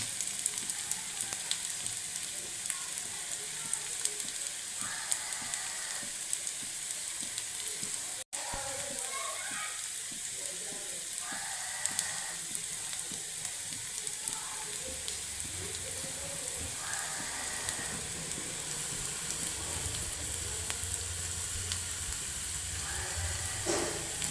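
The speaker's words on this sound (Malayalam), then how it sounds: "വറ്റൽമുളകും കറിവേപ്പിലയും കൂടി ഇട്ട് കൊടുക്കാം കേട്ടോ" Dried red chilies and curry leaves fry in hot oil with a steady, crackling sizzle throughout, while a person talks intermittently over the cooking.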